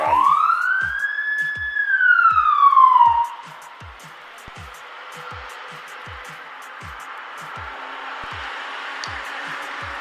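A police siren wails loudly for about three seconds and then cuts off, leaving a faint background hum with steady ticking.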